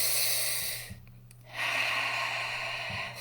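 One deep breath is drawn in through the nose and held, close and soft, with a hush before the breathing resumes.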